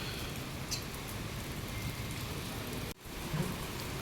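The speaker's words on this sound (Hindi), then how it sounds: "कई दिन बाद आई ना बारिश, सब कुछ सूखा पड़ा था।" Heavy rain pours down steadily in a steady dense hiss of drops on surfaces, with a faint rumble underneath and a brief dropout near the end, and no voices.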